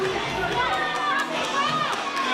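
A crowd at a live wrestling show reacts against a wrestler: a mass of overlapping shouts and jeers, with children's voices standing out, carrying through the whole moment at moderate loudness.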